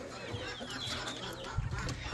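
Backyard hens and a broody hen clucking softly and continuously at a short distance, with low farmyard rustling around them.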